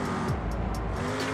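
A car in a video game drives down a huge ramp, its engine giving a loud, steady, buzzing drone with a slight rise and fall throughout and no voices over it.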